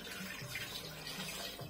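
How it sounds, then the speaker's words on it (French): Hot water runs from a kitchen tap in a steady, quiet rushing stream, constant and unbroken throughout, with no voices. "je vais chercher l'eau du robinet, mais elle est chaude"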